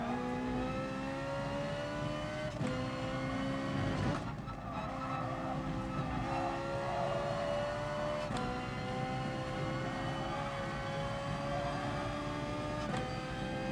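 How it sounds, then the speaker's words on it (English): A Ferrari engine in GT Sport, steady and loud throughout, with harmonic tones rising and falling as it shifts through gears, plus a sharp break near the middle. "this car feels nice. I love the sound of it"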